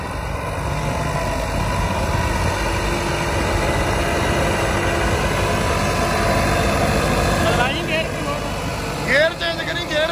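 A homemade tractor engine runs steadily with a deep, loud idling rumble throughout, and a voice talks over it; near the end the engine note shifts briefly.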